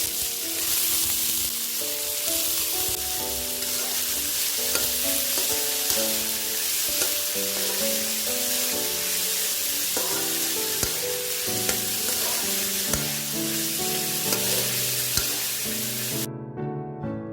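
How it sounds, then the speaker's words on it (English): Mixed vegetables sautéing in oil in a pan for Schezwan fried rice sizzle loudly and continuously, with a spatula stirring and clinking, while background music plays throughout. "Now add all the veggies and saute it for 4 to 5 minutes."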